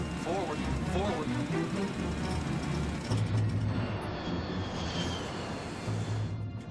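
A jet airliner's engines roar loudly as the plane loses lift after takeoff in icy weather. A continuous heavy drone runs under tense cockpit voices and a dramatic soundtrack.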